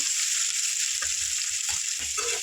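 Capsicum masala ingredients frying in a pan, with a constant bright hiss of sizzling oil and a few faint stirring taps, close and steady throughout.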